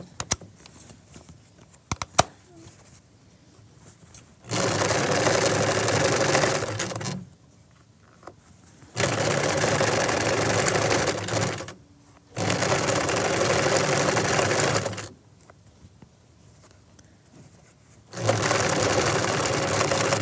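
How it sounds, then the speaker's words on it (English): A sewing machine stitches fabric along a folded edge of a double drawstring bag in four steady runs of about two to three seconds each, separated by short quiet pauses, loud and close. "I'm stitching right along the folded edge"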